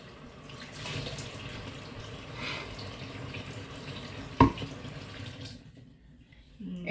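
Flower stems are set into a container of water, a running, splashing wash of liquid with a sharp knock as a stem meets the vessel, then the water quiets to near stillness.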